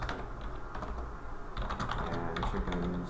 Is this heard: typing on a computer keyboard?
yes